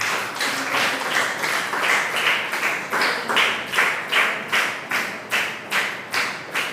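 A congregation at a Sunday Catholic Mass claps in a steady, rhythmic beat to welcome the priest, with roughly twenty evenly spaced claps that stay moderately loud, ring in the room and carry no talking.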